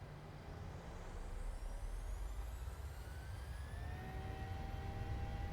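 A Boeing 737-700 jet engine in Microsoft Flight Simulator 2020 rumbles at a moderate distance, with a thin whine that climbs slowly in pitch as the engine spools up, alone and unbroken.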